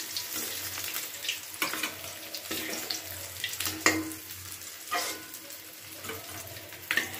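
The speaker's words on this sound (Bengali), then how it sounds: "চার পিস মাছ ভাজতে দিয়ে দিলাম।" Pieces of rohu fish fry in oil in a pan, giving a steady crackling sizzle broken by occasional louder spatters and utensil scrapes, with no talking.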